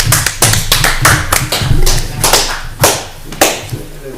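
Attendees at a town Board of Selectmen meeting clap after an oath of office, producing a loud, irregular burst of sharp hand claps close by that thins out toward the end.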